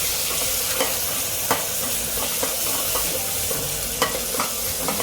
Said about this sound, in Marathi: कांदा लाल झाल्यावर ते आपण मसाला टाकूया वाटण केलेलं